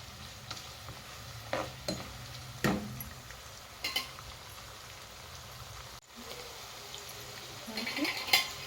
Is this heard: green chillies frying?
yes